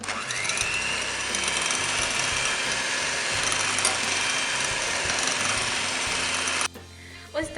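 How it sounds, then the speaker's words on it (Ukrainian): An electric mixer whips egg yolks with half the sugar for a classic sponge cake, a steady, close, loud whirring drone running without pause for nearly seven seconds before cutting off abruptly, leaving quiet background. "у жовтки всипаємо половину цукру і збиваємо до пишної маси"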